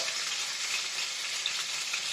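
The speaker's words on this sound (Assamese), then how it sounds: "অলপমান মই ভিনেগাৰ দি ভাজি ল'ম" Local chicken frying in butter in a pan with a splash of vinegar, giving a steady, close, bright sizzle that continues evenly throughout with a few small pops and no talking.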